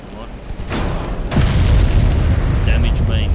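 Warship main guns firing in a naval battle game of early dreadnoughts, heavy booming blasts rolling into a sustained low rumble, with a voice briefly over them.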